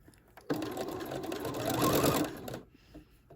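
Gathered fabric for a McCall's 7969 summer dress runs through a sewing machine in one continuous, close whirring stitch of about two seconds that builds slightly before stopping.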